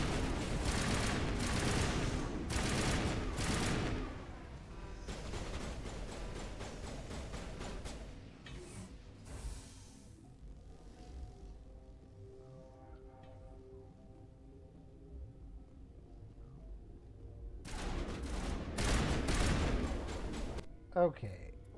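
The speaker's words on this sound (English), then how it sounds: "Why are you firing at me?" Enemy gunfire in a sci-fi shooter game comes in dense rapid bursts at the start and again near the end, with a quieter stretch of music between and a voice talking over parts.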